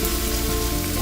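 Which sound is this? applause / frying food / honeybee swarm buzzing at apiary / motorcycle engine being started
frying food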